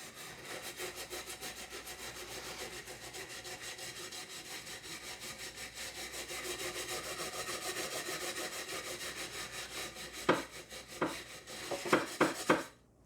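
An Aldi Dishmatic brush scrubs a surface in a steady, close, rhythmic back-and-forth rasp, ending with a few sharper knocks and scrapes.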